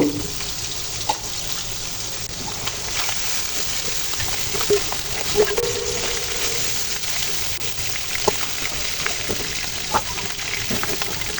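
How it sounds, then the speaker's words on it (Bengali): Small guttum fish being lightly fried in oil give a continuous hissing sizzle, steady in level, dotted with small spitting pops. "তো হালকা করে মাছটা ভাজা হয়ে গেছে"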